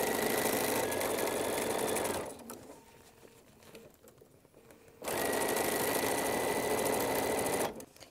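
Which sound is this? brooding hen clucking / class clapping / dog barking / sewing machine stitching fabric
sewing machine stitching fabric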